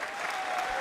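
Brief burst of dense audience applause at a college jazz band concert, a continuous crowd clapping wash heard for under a second.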